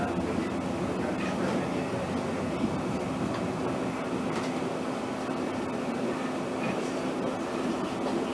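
A train rumbles along steadily with a continuous rolling roar and faint rhythmic clatter, interior and close, with no talking.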